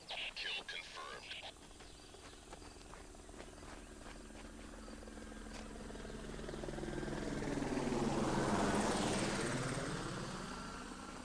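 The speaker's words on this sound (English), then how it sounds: "No, a plane must have flown overhead." A plane flies overhead in the video game Tom Clancy's Ghost Recon: Island Thunder, a low droning roar that swells and sweeps past over several seconds after a few sharp game noises at the start.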